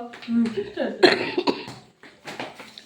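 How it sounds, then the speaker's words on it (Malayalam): A cameraman with a cold gives a few short, close coughs mixed in among bits of nearby talking. "ക്യാമറമാൻക്ക് ചുമയുള്ള കാരണം ഇടയ്ക്കിടയ്ക്ക് ചുമ വരുന്നുണ്ട്"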